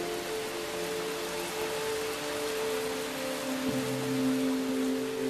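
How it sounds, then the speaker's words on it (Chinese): Heavy monsoon rain falls on the inland Yunnan-Guizhou karst plateau as a dense, steady hiss that stays loud and even, with low sustained tones running beneath it. "时常也会降下暴雨。"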